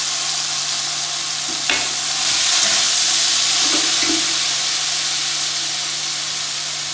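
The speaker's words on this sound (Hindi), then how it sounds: "हल्का सा मैं पानी ऐड करूँगी और ये वही पानी है जो मैंने चने में से निकाला है।" Chickpea cooking water is poured into a hot pot of chopped tomatoes while making degi chana pulao, setting off a steady, close sizzle and frying hiss with a brief splash near the start.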